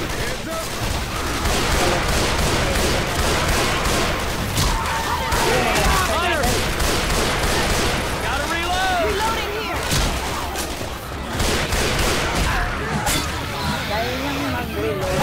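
Dense, relentless gunfire rattles through a Left 4 Dead 2 co-op match in The Parish, with overlapping shots and bursts at high volume and voices talking throughout.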